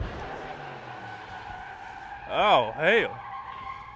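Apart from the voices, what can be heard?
drag car doing a burnout, tires squealing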